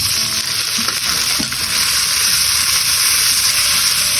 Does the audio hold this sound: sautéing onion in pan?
yes